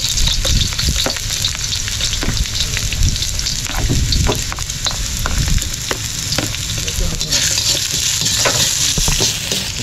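Ginger sizzling in hot cooking oil with stirring: a dense, steady crackle and spatter close up, with scraping stir strokes throughout and no voices.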